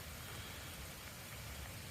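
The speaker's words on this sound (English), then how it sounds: "it's been raining pretty hard here for the last hour or so" Heavy rain pours down steadily on a campground with tents and motorcycles at a motorcycle touring event in Davis, West Virginia, a dense, even hiss of drops with no voices.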